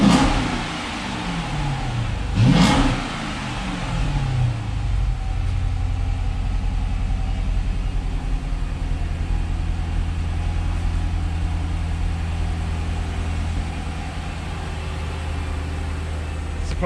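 A 2007 Chrysler 300 SRT8 V8 cranks and fires up near the microphone, blips through a brief rising rev, then settles into a steady, deep rumbling idle that continues to the end.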